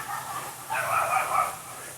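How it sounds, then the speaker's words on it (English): A dog barks in a distant, muffled way outdoors during yard sprinkler repair at a home in The Villages, faint yips rising over steady background noise. "And the dog starts barking."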